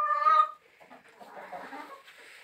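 Chickens on a poultry farm on a hot day in Atyrau give a short burst of close, loud clucking, followed by softer scratchy rustling and faint murmurs.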